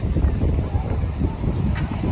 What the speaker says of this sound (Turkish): Bakın rüzgarı duyuyor musunuz?